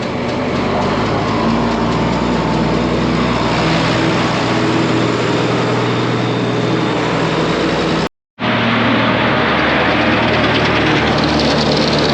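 A Farmall 706 tractor engine runs loud and close as it idles up with the PTO engaged to drive a silage blower, a steady heavy rumble broken by one brief cut before it carries on.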